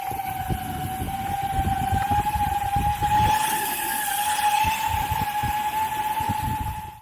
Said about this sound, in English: one of the things that you're going to notice with these Planetary gearing system is that it's not going to win any awards for being the most quiet riding system